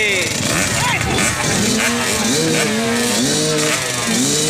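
65cc motocross motorcycles racing at a local MX event, engines screaming high and loud with rising and falling revs as bikes pass close, overlapping whines from several machines, with a voice talking over the din.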